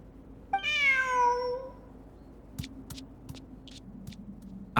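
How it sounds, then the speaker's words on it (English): A single drawn-out cat meow from the game Genshin Impact with a bright, electronic tone, followed by a few soft clicks and taps over a low steady hum. "Who's a good kitty?"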